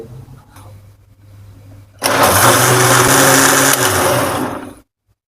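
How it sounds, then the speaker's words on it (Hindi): A blender kicks on abruptly and grinds tamarind and plum pulp loudly for a few seconds, a harsh whirring roar that then cuts off, following a quieter hum. "अब हम इसको ब्लेंडर में डालेंगे।"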